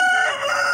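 A pet rooster crows loudly and up close, one sustained strained call that wavers in pitch, heard alone with no talking.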